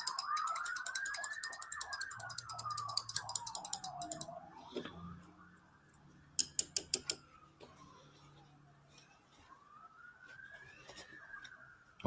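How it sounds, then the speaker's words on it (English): A siren wails outside during a live scale-modelling session at a workbench, its pitch rising and falling in long sweeps over twelve seconds, fairly faint and distant, with brief clicks and taps from the bench in between. "siren time."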